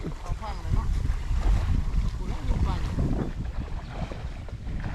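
Evening wind sweeps across open fields in rural northeast Thailand, a steady, gusty roar buffeting the microphone close up the whole time.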